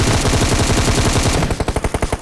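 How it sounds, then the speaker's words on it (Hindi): Automatic gunfire in a battle royale mobile game: a loud, rapid, sustained burst that closes with a slower run of about eight distinct shots, close up and with no talking. "सामने से कुछ फायरिंग साउंड आ रहा था"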